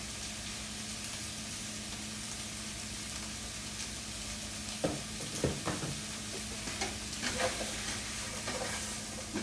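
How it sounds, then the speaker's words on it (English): Ground beef and vegetables sautéing in a pan with Greek seasoning, garlic salt and onion salt, a dense continuous sizzle close up, with a few spoon-stirring scrapes and clunks in the second half. "let me let this simmer for a while, or saute a while"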